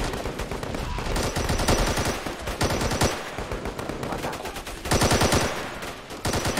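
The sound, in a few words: machine gun firing in Call to Arms video game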